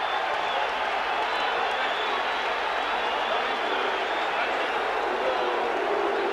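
Rugby league crowd at a Wigan versus Warrington match reacting after a Warrington try: a dense, steady roar of distant voices and murmuring with no single clear peak, heard throughout.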